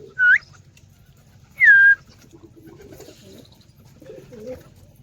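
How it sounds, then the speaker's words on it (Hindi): Two short, clear bird calls ring out near the start and middle, followed by softer low murmuring pigeon coos over a faint steady background as pigeons are fed grain. "अभी यहाँ पर बहुत अच्छे से कबूतर चल रहे हैं"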